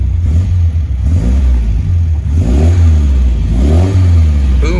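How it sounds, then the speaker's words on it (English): A 1974 MGB roadster engine revs up and down several times, its exhaust booming with a deep, throaty roar close by. "Booming exhaust system, that's really nice."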